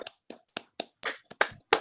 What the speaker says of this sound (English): Can I have a big round of applause for that first half,